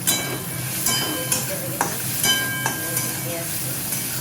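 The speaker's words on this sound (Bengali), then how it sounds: "পেঁয়াজ দিয়ে দিলাম" Onions sizzle in a pan, with a soft steady frying hiss and a few stirring scrapes and clinks at moderate distance.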